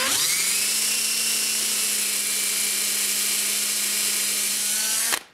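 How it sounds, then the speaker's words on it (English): A power drill whines steadily and loudly at close range as it bores a screw hole into wood, its bit taped to set the depth for an art clock build. The drill holds one high pitch for about five seconds, then cuts off abruptly. "I've got my drill bit set up with a piece of tape to the depth that the screw will penetrate into the wood."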